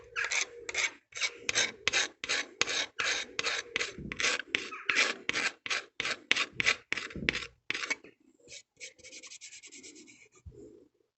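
Hand scraper stripping old varnish from classic car wood veneer, a long run of about twenty rhythmic rasping strokes, close and steady, followed by a softer, faster scuffing patch; no talking.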